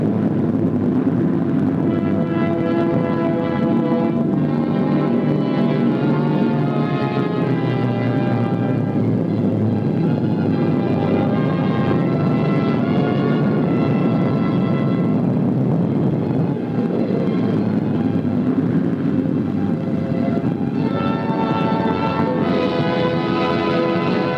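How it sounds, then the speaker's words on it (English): Piston-engined photographic reconnaissance aircraft, veterans of atomic test reconnaissance, arriving at Kwajalein Island: a steady, loud, droning engine roar with harmonic hum that holds throughout, with no voices. "Photographic aircraft, veterans of atomic reconnaissance on Operation Crossroads, arrive on schedule"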